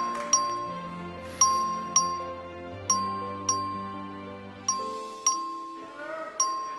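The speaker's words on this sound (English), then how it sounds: "The clerk will please ring the bell." A clerk rings a bell in a legislative chamber to call a record vote. About nine bright, ringing strikes come at an uneven pace, each one sustaining and fading into the next, with no talking.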